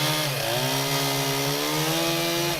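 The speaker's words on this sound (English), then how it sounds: "we use chainsaws and knives." A chainsaw running steadily at high revs, a loud, close, continuous buzzing drone with a slight dip and rise in pitch as it works, alone without talk.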